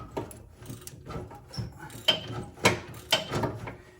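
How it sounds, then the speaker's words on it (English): An engine on a neglected Craftsman garden tractor ticks and clatters with bad lifter noise, giving irregular mechanical knocks at close range and moderate volume. A few sharper clacks stand out near the end. "it's got bad lifter noise"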